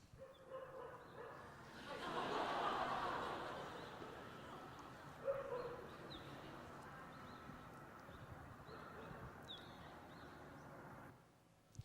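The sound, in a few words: dog barking, played video recording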